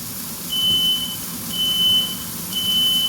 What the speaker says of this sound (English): There's that frickin' alarm.